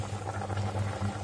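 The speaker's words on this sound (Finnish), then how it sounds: "sitten laitetaan lihat kiehumaan" Browned meat simmers in a pot of water for mykykeitto, a Finnish dumpling soup. The bubbling is soft and steady over a low burner hum, heard alone and close.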